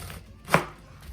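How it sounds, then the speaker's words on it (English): A single sharp knife chop slices through a cabbage on a board, one crisp crunching thud in an otherwise quiet kitchen. "Then I'll cut it in quarters."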